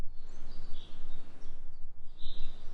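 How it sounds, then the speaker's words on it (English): Birds chirp in massive suburban trees in Prairie Village, Kansas, in mid-March, with a few faint, scattered calls over a steady low outdoor hum. "I don't know if you can hear all the birds."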